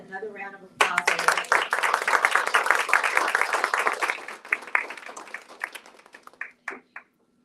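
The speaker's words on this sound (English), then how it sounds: "Give these ladies another round of applause" A crowd at a breast cancer awareness event breaks into loud, dense applause that holds for several seconds before thinning out to a few last claps, with speech heard briefly before and after.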